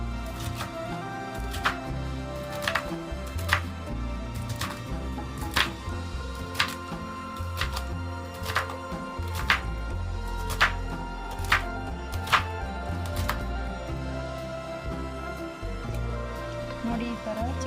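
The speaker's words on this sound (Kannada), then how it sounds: "ನೋಡಿ, ಈ ಥರ ಚಿಕ್ಕದಾಗಿ ಕಟ್ ಮಾಡ್ಕೊಳ್ಬೇಕು." Long beans being cut into small pieces with a knife on a board: a string of sharp, distinct chops at an uneven rhythm, clear and near, with someone speaking over them.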